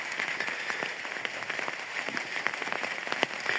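Rain falling over an orchard of fruit saplings, a steady dense patter of drops with scattered louder taps, continuous and close, with no one talking.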